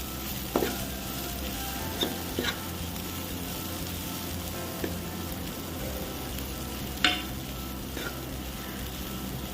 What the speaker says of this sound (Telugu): 3 ఆనియన్స్ వేసేసి బాగా దగ్గర పడి బాగా వేగే వరకు ఇలానే వేసుకుంటూ ఉండాలి